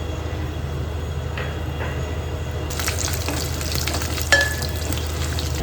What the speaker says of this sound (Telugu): ఇప్పుడు పోపు గింజలు వేసుకుంటుందండి.